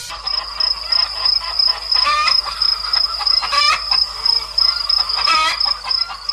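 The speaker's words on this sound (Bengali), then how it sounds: "ওই তো কত মুরগি।" Cartoon chickens in a poultry farm, clucking in repeated bursts with a thin high whistle-like tone running steadily behind them, close and fairly clear without talk.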